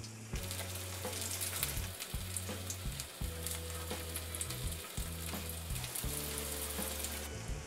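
Hara bhara kebabs with a semolina coating shallow frying in a pan of oil, giving a steady, close crackling sizzle throughout with a low pulsing hum underneath, and no talking.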